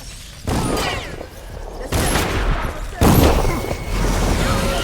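Gunfire in the stealth video game Dishonored 2: several loud, sharp blasts with ringing tails, spread across a few seconds, over game ambience.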